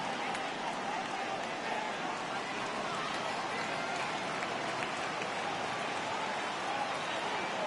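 Rain falls at a baseball stadium during a Yankees vs Indians game, a dense, even hiss of downpour that holds at one level throughout with no clear pauses.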